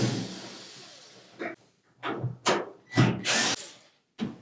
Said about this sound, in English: Then we'll remove the screws that secure the top of that front panel to the support piece.